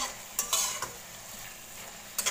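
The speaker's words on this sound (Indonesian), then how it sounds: "Kita aduk lagi." Broccoli and shimeji mushroom stir-fry, with fried shallots added, stirred in a sizzling pan: a soft continuous frying hiss broken by a few scraping clinks of the spatula against the pan, close up with no talking.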